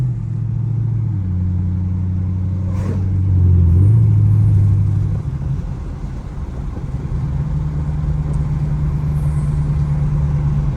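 A Chevrolet Camaro SS on a night drive gives off a steady, loud, low exhaust drone that swells briefly as it revs a few seconds in, then settles back to cruising. Distinct pops are not clearly picked out.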